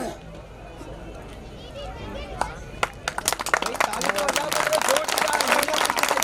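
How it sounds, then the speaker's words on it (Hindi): Crowd applause at a Meena community convention in Sirohi, building from scattered claps into dense, lively clapping, with a voice speaking over the start. "जोरदार तालियां एक बार रामलाल जी के लिए."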